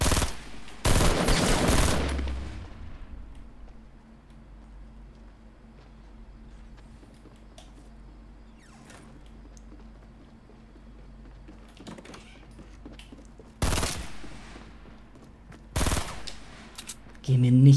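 Gunfire in the video game Fortnite: a loud burst of rapid shots at the start, then quieter game ambience before two more sharp single blasts near the end, with players talking over it.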